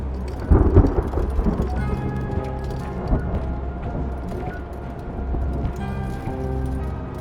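Thunderstorm with rain in a video game, with a loud close thunder crack early on and steady heavy rain rumbling throughout.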